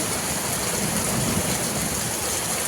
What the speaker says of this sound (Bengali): বৃষ্টি আবার শুরু হয়েছে পুনরায়